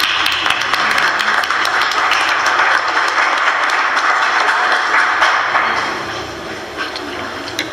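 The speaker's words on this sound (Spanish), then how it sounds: "un aplauso para él" Audience at a children's and youth literature award ceremony breaks into loud, sustained applause for an honoree, a dense wash of clapping that fades toward the end.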